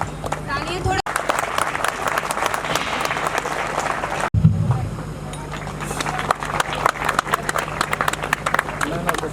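Audience applause welcoming a performer at a college cultural event, sustained crowded clapping across the whole stretch with cheering voices mixed in and a brief loud bump partway through.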